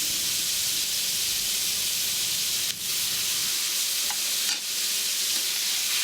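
Razor clams stir-fried with fish sauce and soy sauce, shallots and lemongrass in a hot pan: a loud, continuous close sizzle and hiss with a couple of brief stirring scrapes.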